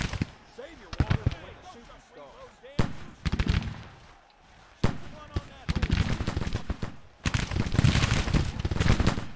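Artillery counter-battery fire in Grand Tactician: The Civil War, with sharp cannon reports and crackling volleys arriving in irregular clusters, building into a dense, continuous barrage toward the end, with someone talking in between.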